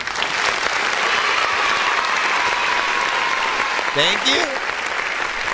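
Dense, steady applause from an audience during a music livestream fills the whole stretch, loud and continuous, with a voice briefly speaking over it near the end.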